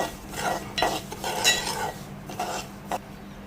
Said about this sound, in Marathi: आणि त्यामध्येच हा आपण भाजून घेतलेला रवा पण मी घालणार आहे आणि एकदा मस्त एकजीव करून घेऊया